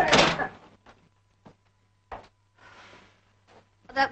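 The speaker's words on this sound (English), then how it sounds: "Close the door, please." A door closes with a loud close thud at the start in a 1941 film scene, followed by a few fainter knocks and shuffling sounds and quieter, scattered bumps.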